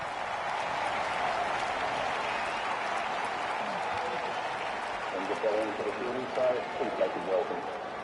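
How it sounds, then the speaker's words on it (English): Crowd applause in the cricket video game Don Bradman Cricket 14, a dense, steady wash of clapping and crowd noise that holds throughout, with a commentator's voice briefly audible over it near the end. "The crowd applaud."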